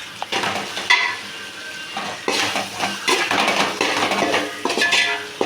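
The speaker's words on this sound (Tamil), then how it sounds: "இப்போ எல்லாத்தையும் மிக்ஸ் பண்ணிக்கலாம்" Potato fry with salt is mixed in a pan, a metal spoon scraping and clattering against the pan in uneven strokes over a light sizzle, loud and close with no voices.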